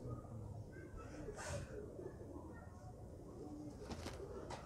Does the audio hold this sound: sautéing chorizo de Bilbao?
no